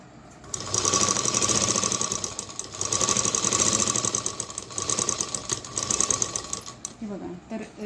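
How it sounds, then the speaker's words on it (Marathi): A sewing machine runs steadily while stitching a saree border, a fast close mechanical whir with a few brief pauses and changes in speed, then stops near the end. "आणि मग शिलाई करून घ्यायची आहे पहिले का खालून घेऊया"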